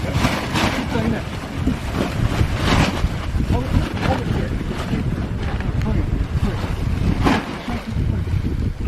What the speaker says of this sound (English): with night falling and the wind rising, Rob felt it was time